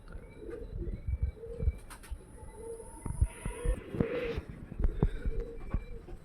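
Girebaaz pigeons give low, soft cooing calls in repeated bursts at moderate distance, with faint chirps and a little background noise but no clear talk.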